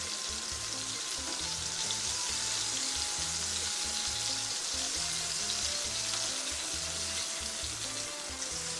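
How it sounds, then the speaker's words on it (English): Sandwich filling fries in a pan while being stirred, with a dense, continuous sizzle and occasional scraping of the pan, close and steady throughout. "because I'm stirring it, to make sure that it doesn't get burned"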